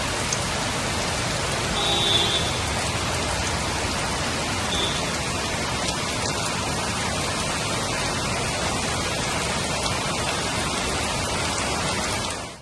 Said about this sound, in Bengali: একেই বোধহয় বলে ঝমঝম করে বৃষ্টি